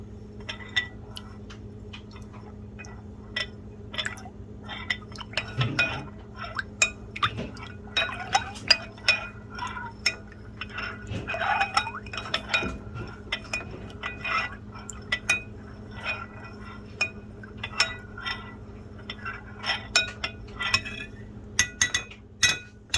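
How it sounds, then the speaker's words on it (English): A spoon stirs homemade plant-based yogurt in a glass container, giving irregular close clinks and taps against the sides over a quiet background, with no talking. "And I'm going to stir it up."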